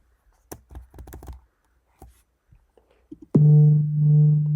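A few soft taps and clicks, then a loud steady buzzing vibration hums for the last second or so.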